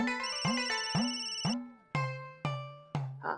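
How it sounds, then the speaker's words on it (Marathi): A telephone rings in a domestic scene from a Marathi TV serial, giving a close, clear electronic ringtone of about seven repeated chimes in steady rhythm. No one speaks. "मालकाने शोभाताईंना फोन लावलाय."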